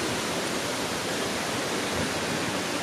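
The Allerheiligen waterfalls in Germany pour with a dense, steady roar heard from close by, constant throughout with no voices.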